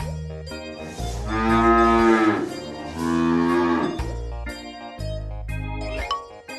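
A cow moos in two long, loud, drawn-out lows close by, separated by a short gap, with light musical accents before and after.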